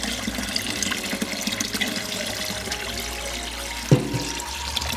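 Brown turbid water is poured into the top of a biosand filter outdoors in Cambodia, a continuous splashing, gurgling pour under steady background noise, with a brief louder clunk near the end.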